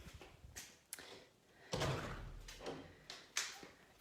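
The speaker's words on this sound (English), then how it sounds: "Got to shut the doors because it's mosquito o'clock." Balcony doors are pulled shut with a few soft thumps and a sliding rush, a quiet, close sequence of separate knocks and swishes with no talk.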